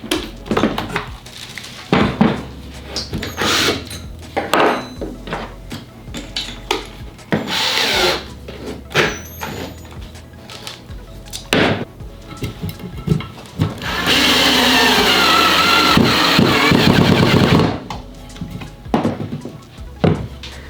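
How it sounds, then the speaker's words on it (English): A Ryobi entry-level cordless drill drives a pocket hole screw into wood, preceded by scraping and handling knocks, then a steady whirring run of a few seconds that stops abruptly, followed by more handling. "let's go ahead and put the actual pocket hole screw in"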